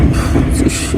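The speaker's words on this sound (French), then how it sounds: "on est dans un train" Riding inside a moving train in Japan: a loud, steady low rumble of the carriage with faint rail noise and a brief higher whine overhead, while a voice speaks briefly.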